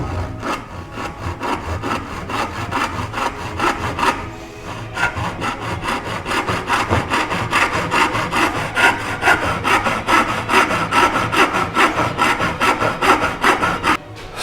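A hand saw cuts wood for a dovetail joint on a step stool, with fast, steady back-and-forth rasping strokes close by, one short pause early on, then continuing evenly to the end.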